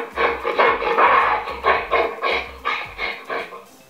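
Gorilla call played as a listening quiz on a Google Home smart speaker: a series of rhythmic, fairly loud hooting and chest-beat-like bursts, about eight pulses in four seconds, with no voices over it.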